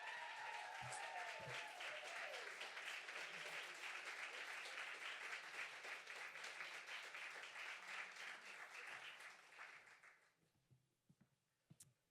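An audience at a book reading and conversation claps to welcome an author, with sustained dense applause that fades out after about ten seconds into a few scattered claps and room noise.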